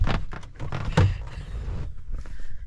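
A car door handle is pulled and the door thumps and rattles repeatedly without opening, close by, with a loud knock about a second in and scattered clunks after.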